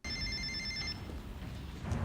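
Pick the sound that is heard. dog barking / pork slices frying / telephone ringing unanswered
telephone ringing unanswered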